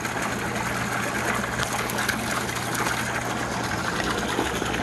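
Waterway pump motor running on a priming circuit and pumping water, a dense steady rushing, turbulent flow over a constant motor drone, close and continuous with no pauses.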